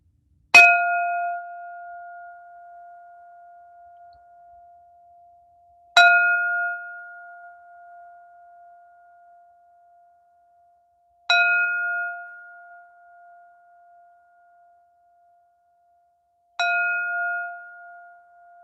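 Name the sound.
meditation bell ringing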